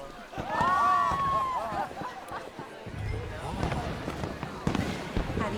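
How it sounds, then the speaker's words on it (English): Fireworks at a party in the video game Red Dead Redemption 2: a rising whistle followed by scattered pops and crackling bursts, mid-distance, with crowd chatter around. "Let me enjoy the fireworks."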